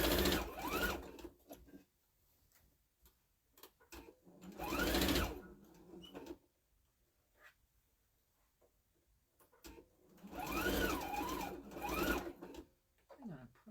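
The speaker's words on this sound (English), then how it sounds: "I'm just gonna sew a little bit and I'll finish it later." A sewing machine stitches a quilt in short spurts, humming briefly at the start, again around five seconds and in a longer run near the end, with quiet pauses between the bursts.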